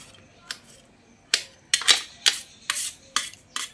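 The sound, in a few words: banana flower being chopped finely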